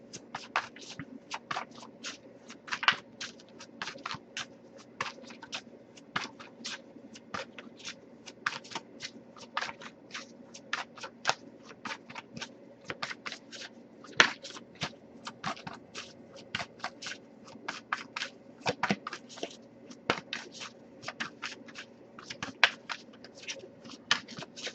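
Oracle and tarot cards being shuffled by hand, a long, quiet, close run of soft riffling flicks and papery slaps repeating at a steady pace with no talking.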